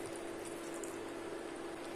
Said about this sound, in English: Pour in 150 milliliters of water.